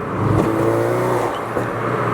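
A car engine hums steadily from inside the cabin on a drive with no music, with a brief rev and whirring road noise holding at a constant, close level throughout.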